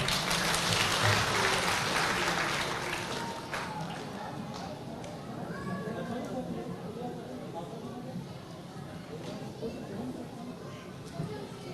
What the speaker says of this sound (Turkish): Alkışlarınızla geliyorlar.